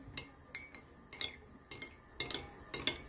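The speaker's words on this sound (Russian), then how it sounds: "Все хорошо перемешиваю." A spoon clinks and taps against a bowl while stirring low-fat sour cream with soy sauce, in several quiet irregular clicks over faint room noise.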